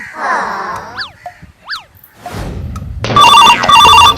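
After a few springy boing-like sound effects, a loud electronic phone ringtone starts playing its repeating melodic ring near the end.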